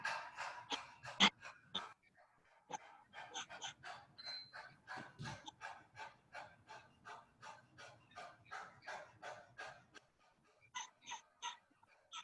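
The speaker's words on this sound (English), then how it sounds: "you stick your tongue way out and pant like a dog." A person doing lion's breath in Kundalini yoga, tongue stuck out and panting like a dog: a long run of quick, rhythmic breathy pants, close and steady, pausing briefly before a few final breaths.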